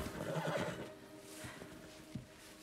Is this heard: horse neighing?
yes